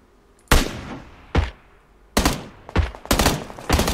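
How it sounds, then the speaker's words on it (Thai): Bursts of automatic gunfire in the PUBG Lite video game: several loud, close volleys separated by brief pauses, with the later bursts coming in quick succession. "ข้างหลังก็มีคนยิงเราอยู่แล้ววะ"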